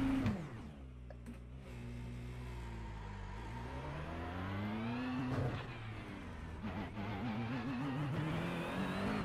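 A McLaren race car engine in Assetto Corsa Competizione, driven on a racing wheel, revs and shifts steadily, a continuous buzzing tone rising and falling in pitch with brief dips between gears, with no talk.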